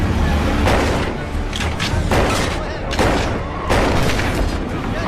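Gunfire from a street shootout scene in the film The Town: dense, loud bursts of shots and booming blasts, several heavy volleys in quick succession with voices mixed underneath.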